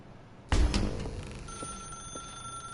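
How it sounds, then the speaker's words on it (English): A telephone rings in the video game The Stanley Parable, beginning with a sudden loud strike followed by a sustained ringing tone that lingers and fades slowly, with faint clicks underneath. "Now pick up the phone."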